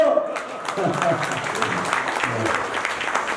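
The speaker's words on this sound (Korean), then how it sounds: "박수 한번 주십시오" Audience applause at a year-end gathering, a steady burst of clapping from a seated crowd indoors, dense and fairly loud throughout.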